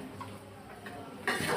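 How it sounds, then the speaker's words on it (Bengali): A spoon stirs mango pickle with jaggery in a pan in a home kitchen, scraping and clinking softly in short strokes before a louder sizzling rush at the end. "গুড় দিয়ে নাড়াচাড়া করতে লাগলাম।"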